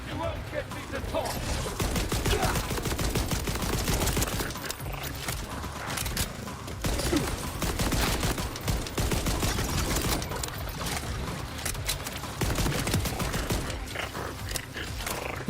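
Dense, rapid gunfire in the video game Borderlands 4, a continuous crackling barrage of shots with mechanical clatter, loud throughout with occasional voices mixed in.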